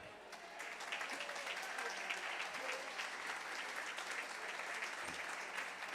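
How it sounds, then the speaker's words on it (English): An audience at a zoo's evening gala under the stars gives Ron McGill a sustained round of applause, steady dense clapping from a crowd heard at moderate distance. "Can we have a big round of applause for Ron McGill?"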